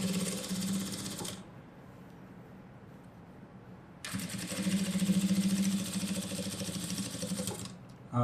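A sewing machine runs the edge stitching on a blouse lining in two bursts of rapid, close mechanical whirring separated by a quiet pause, with no talk over it.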